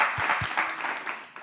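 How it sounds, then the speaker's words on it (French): Brief audience applause at a live event, a short patter of clapping that fades over about a second and a half. "Applaudissez Miss Martha."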